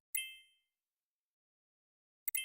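Two bright electronic chime alerts from a phone during a live day-trading session: one ringing tone that fades out, then after a long silence a quick double ding at the end, clear and close with no talking.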